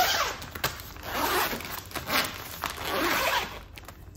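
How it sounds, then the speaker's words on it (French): A zipper being pulled open and shut on a rigid plastic storage bag, several quick rasping runs close to the microphone with short pauses between, no talking. "Vous avez une fermeture éclair."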